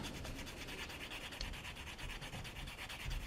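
Steady, rhythmic scraping of a finer-grit sanding stick rubbing across plastic model-kit parts, close and continuous with a smooth, even texture throughout.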